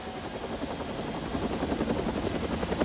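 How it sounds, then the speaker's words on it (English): Steady rotor thrum of a full-scale helicopter coming down, loud and close, with a rhythmic chop that swells slightly toward the end. "the helicopter coming down and shooting them"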